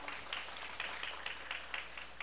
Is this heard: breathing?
no